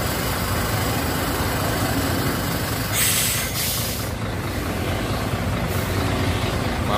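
A heavy truck pulling a three-axle, twelve-wheel trailer rumbles past up close, its loud diesel drone swelling with bursts of air hiss midway, over steady road noise.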